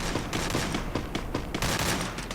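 Rapid bursts of in-game gunfire from a Free Fire match, dense overlapping shots crackling continuously for a couple of seconds at steady loudness, with no voices.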